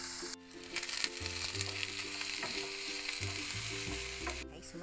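Mushrooms and garlic fry in a pan with a steady, close sizzle that runs the whole time under a tonal musical bed, with no talking.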